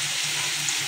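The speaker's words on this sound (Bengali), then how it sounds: "এইভাবে আলুটা আমি লাল লাল করে ভেজে নেবো ভালো করে।" Potato pieces frying in oil in a pan, a steady soft sizzle and crackle, close and even, with no voices.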